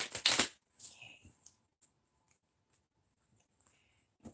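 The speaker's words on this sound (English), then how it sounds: "Not too much shuffles there." Tarot cards are shuffled close by in a quiet room: a loud riffle burst at the start, then a softer second pass, followed by scattered faint taps and card handling.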